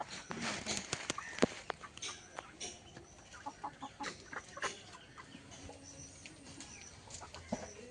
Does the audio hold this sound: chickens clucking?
yes